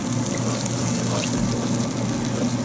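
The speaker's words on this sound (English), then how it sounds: "I have a little bit of water here that I'm going to use." Water runs steadily from a kitchen tap to rinse out a container while cooking Mughlai chicken, a continuous close hiss and splash with a low hum beneath.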